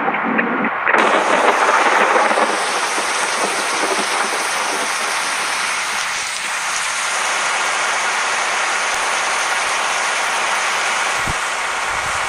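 Rain falls in the video game Bus Simulator Indonesia while an MG Hector Plus 2023 car is driven, making a constant broadband hiss that sounds after an abrupt start and stays even throughout, with no talking.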